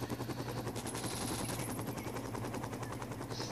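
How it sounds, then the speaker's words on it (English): Sustained automatic gunfire aimed at the player in Real Stickman Crime, a steady rapid rattle of shots running the whole stretch at moderate level, with a low droning hum beneath. "They're still shooting at me."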